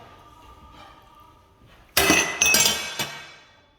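Large, delicate glass plates clink and clatter loudly in a kitchen, a burst of sharp ringing knocks after a quiet moment, then fading.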